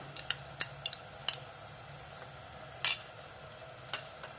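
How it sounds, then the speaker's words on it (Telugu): Fenugreek leaves fry in oil with a spoonful of ginger-garlic paste for a broad bean seed curry, a faint sizzle under sharp scattered spatula clicks against the pan and one brief scraping stir. "మెంతికూర ఉడుకుతుంటేనే, ఆ నూనెలో ఫ్రై అవుతుంటేనే"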